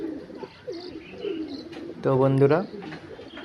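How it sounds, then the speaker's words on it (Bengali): A male Punjabi tatira pigeon gives a single loud, rich coo lasting about half a second, close by, right after a voice talks. "নটটা ডাকছে, ফুল মস্তিতে আছে পায়রা"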